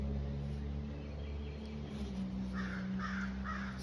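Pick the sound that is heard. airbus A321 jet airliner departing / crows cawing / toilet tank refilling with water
crows cawing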